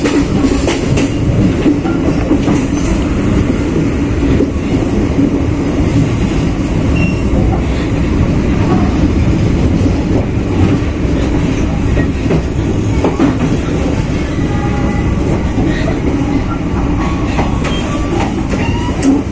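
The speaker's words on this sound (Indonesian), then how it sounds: "kereta api Cikuray persiapan masuk stasiun Padalarang" KA Cikuray passenger train rolls into Padalarang station, a loud continuous rumble of wheels on rails with clickety-clack and occasional squealing throughout.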